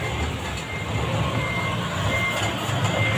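A prime mover truck pulling a trailer reverses into a parallel parking spot in the Philippines. Its engine rumbles steadily nearby while faint reversing beeps repeat over it.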